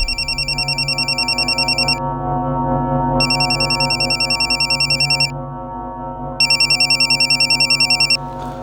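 A telephone rings in three long trilling bursts with short gaps between them, over steady dramatic background music in a Hindi crime TV serial scene.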